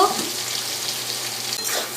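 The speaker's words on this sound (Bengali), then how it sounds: "এবার আলুগুলো ভেজে নিচ্ছি" Potato pieces fry in hot oil seasoned with turmeric in a pan, a close, even crackling sizzle that runs without break, with a faint low hum underneath.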